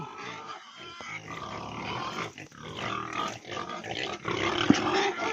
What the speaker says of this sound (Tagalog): ito pala yung aming mga baboy